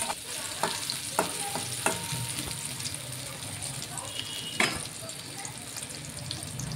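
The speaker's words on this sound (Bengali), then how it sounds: "তো এখন পেঁয়াজ ভাজা হচ্ছে।" Onions frying in a pan for a banana-flower curry: a soft continuous sizzle punctuated by sharp spatula scrapes and taps, with a faint voice in the background.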